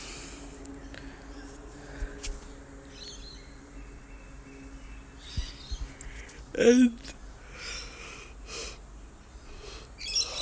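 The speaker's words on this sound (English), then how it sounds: "all the big birds have come out for the day." Large birds calling in the open air at sunrise, heard as scattered chirps and a louder burst of calls partway through over steady background ambience, with a brief spoken word.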